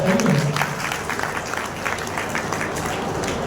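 Audience applause at a Sant Kabir celebration in a hostel and library hall, a short burst of dense clapping from a crowd, loud at first and holding steady, with a voice faintly heard at the start.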